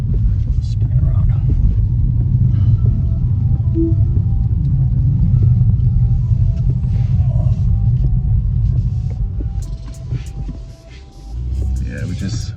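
A 2025 BMW 230i M-Sport on the move, its deep engine and road rumble droning steadily inside the cabin and easing off near the end, with people talking over it.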